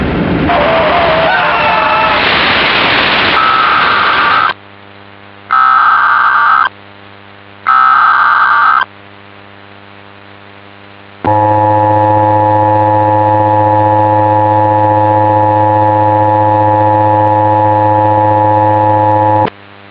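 Emergency Alert System attention tones for a Tennessee civil emergency message: a burst of harsh digital data-header noise bursts repeated three times, followed by a long, loud steady two-tone alert that holds for about eight seconds alone.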